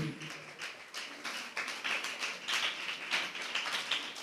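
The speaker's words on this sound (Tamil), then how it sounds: "நல்ல கைத்தட்டி அவங்களுக்காக ஒரு நன்றி சொல்லுங்களேன்" A church congregation claps hands in thanks, a soft, fairly distant patter of many hands that builds and continues steadily for several seconds without a clear rhythm.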